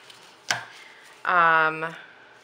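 Metal rings of a ring-bound planner snapping open with one sharp click, followed by a longer rattling ring as they are handled, close and alone.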